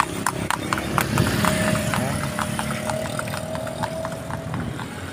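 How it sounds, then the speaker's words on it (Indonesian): Horse hooves clip-clop in a regular rhythm on a rural road beside rice paddies, with a faint engine hum underneath and some scattered talk. "Ada kuda juga."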